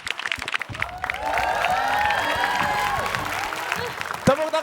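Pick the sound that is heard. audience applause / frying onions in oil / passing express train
audience applause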